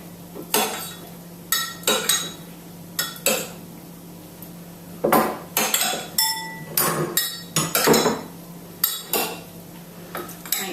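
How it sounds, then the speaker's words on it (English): Metal utensil scraping and clinking against a bowl while mushrooms are tossed in an olive oil and tamari marinade, a steady run of close, irregular stirring knocks with no talking. "give them a good stir around so they're well coated"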